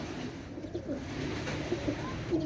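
Pigeons coo in soft, low repeated calls close by, several short throaty phrases over a faint room background, with no talk.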